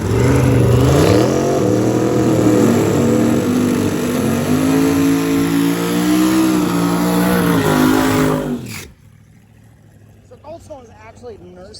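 A drag racing car engine idles and revs loudly at a drag strip during a road event, a rough, throbbing exhaust note rising and falling for several seconds before cutting off abruptly, followed by quiet background with faint voices.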